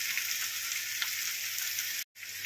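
Boiled potatoes fry in hot masala in a pan, giving a steady, close hiss of oil sizzle that cuts out briefly near the end and then resumes.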